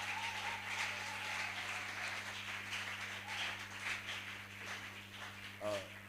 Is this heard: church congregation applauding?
yes